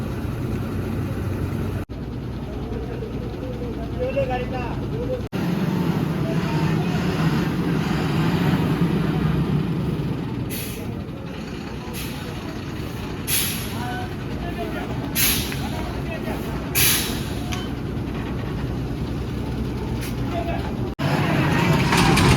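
A fully loaded truck on the Shirur route to Maharashtra grinds out of a muddy stretch, its engine straining with a steady rumble and hiss throughout. A voice talks over it, and brief air-brake-like bursts come near the end.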